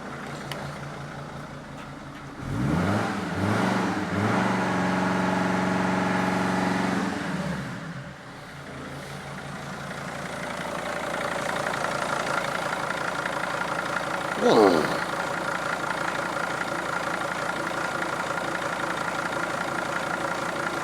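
Diesel engine of a Mercedes Sprinter CDI van with a turbo limp-mode fault, revved hard near the start then left idling, a steady nearby mechanical drone with a brief clunk midway.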